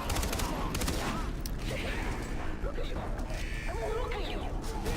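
Gunfire in the Far Cry 3 video game crackles in a dense, continuous barrage of shots and clattering mechanical noise, with voices talking over the shooting throughout.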